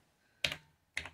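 Keys on an NEC PC-8300 portable computer keyboard are struck in two distinct, close, crisp clacks about half a second apart, with no talking.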